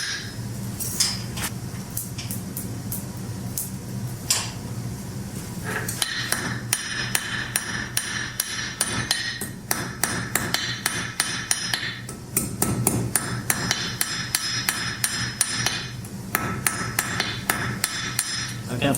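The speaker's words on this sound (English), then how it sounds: "Now I shall flatten these out and make them thinner." A hammer rings on iron against an anvil while forging a ring thinner, sparse taps at first and then rapid, regular metallic blows, close and bright.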